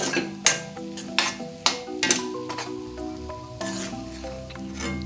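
Besan flour mixture stirred and roasted in a pan over a low flame, with several distinct scraping strokes of a spoon against the pan over a soft sizzle.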